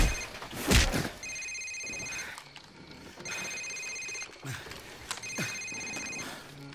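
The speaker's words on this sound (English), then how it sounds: "Sir, it's his cell phone." A cell phone rings in Call of Duty Modern Warfare, its electronic tone sounding in three repeated bursts, with thumps and shuffling noises between the rings.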